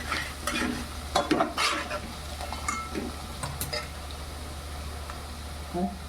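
Turmeric frying in oil in a pan, a soft steady sizzle broken by scraping stirs and light utensil clinks, with a low steady hum underneath and someone talking over part of it.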